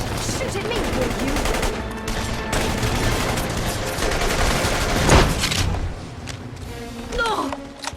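Sustained gunfire in The Saboteur rattles loud and close in dense, overlapping bursts, then thins out into a few scattered shots, with brief voices breaking through near the end.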